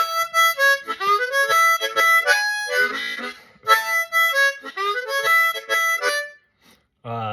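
A harmonica plays a single-note lick without octaves, quick bright draw and blow phrases tumbling in an uneven run of short notes, then a brief pause and one low held note.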